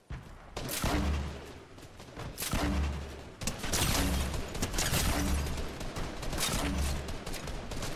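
Grenades fired into a building in the Fortnite video game, a dense run of loud launcher shots and heavy booming blasts with low rumbles, close and continuous with no talking.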